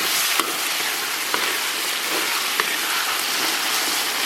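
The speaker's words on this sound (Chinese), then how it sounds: "咱们把黄豆酱给它炒香" Soybean paste sizzling as it is stir-fried in a pan while braising tomahawk steak with potatoes, a steady close crackle with a few sharper ticks and no talk.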